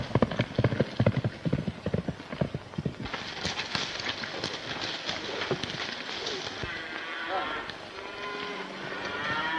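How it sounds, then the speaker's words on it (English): Horses from a 1932 western gallop past with rapid, loud hooves that clip-clop close by, joined by rough outdoor noise and shouting voices. "Get on your horses, let's go on."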